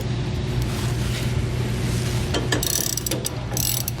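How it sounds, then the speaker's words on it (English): A ratcheting wrench clicks rapidly while loosening a bolt during a TorkLift SuperHitch Magnum trailer hitch install, bursts of close metallic ratcheting over steady background hum. "you are going to need a ratcheting wrench once you get it broken loose"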